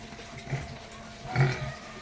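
Piglets stirring awake to nurse, giving two short bursts of grunting and squealing, the second louder and longer, over a low barn background.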